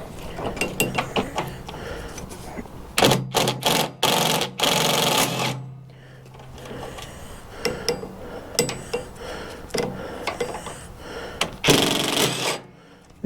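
A cordless impact driver removing screws from an Ariens ST824 snow thrower, with bursts of rapid mechanical hammering at close range, separated by pauses and lighter clicks and handling noises.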